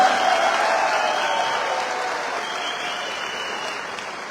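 Loud, dense applause from a seminar audience at an IMC business event celebrating new office openings, sustained and steady and slowly fading over a few seconds, with no voices on top.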